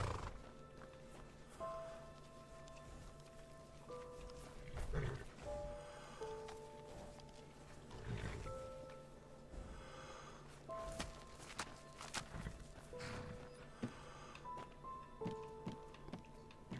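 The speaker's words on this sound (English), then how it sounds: "Oh my goodness, horses are beautiful." Horses in the video game Enderal walking with soft clip-clop hooves, occasional snorts and whinnies over a quiet ambient background, moderately distant.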